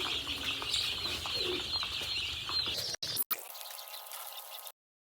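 Pigeons and their chicks gather at a feeding place, giving steady nearby cooing and chirps with bursts of wing flapping, then a brief dropout before the sound cuts off.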